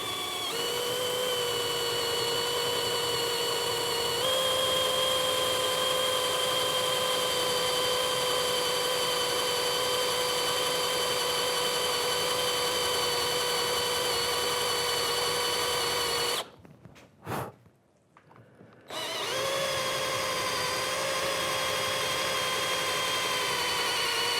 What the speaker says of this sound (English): we take the drill right onto the point and we start drilling.